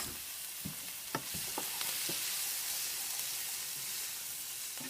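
Cut collard green ribs fry in a hot pan, a dense sizzle broken by scattered clicks and scrapes of stirring, close up with no voices.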